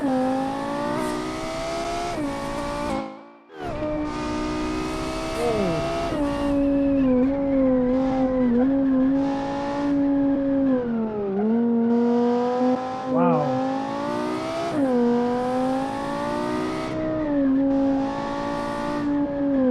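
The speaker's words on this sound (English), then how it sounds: "A proper car indeed, a proper racing car." An all-wheel-drive racing car accelerates in a video game, its engine note climbing and dropping through repeated gear changes with a brief cut near the start, loud and continuous for the whole stretch.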